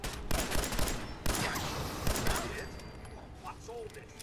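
Rapid gunfire from the video game Fallout 4 crackles in several bursts, loud and near at first, then fading to scattered shots while a player talks.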